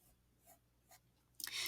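Pencil scratching across paper during a face-vase positive and negative space drawing, a few faint short strokes followed by a brisker, louder burst of scribbling at the end, with no one talking.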